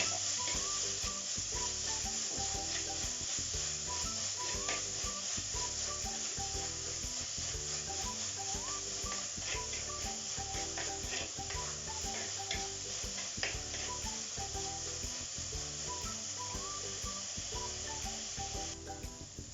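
Onion, ginger, green chili and curry leaves frying in a pan for Kerala-style fish curry, a steady bubbling sizzle with faint regular ticking and occasional stirring scrapes throughout, no talking.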